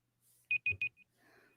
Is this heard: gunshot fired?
no